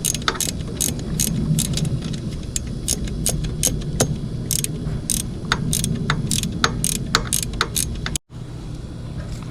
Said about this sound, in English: Now we're gonna screw our tensioner pulley back in.